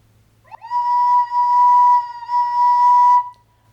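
A recorder holds a single sustained note that wavers slightly in pitch and loudness, as uneven breath causes the tone to wobble; the note plays alone, fairly loud and close, with a brief dip midway.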